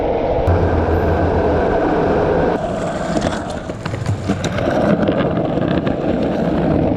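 Skateboard cruising on soft, squishy wheels, giving a steady, fairly loud broadband rolling rumble throughout with some wind buffeting and a few light clicks and bumps midway; no voices.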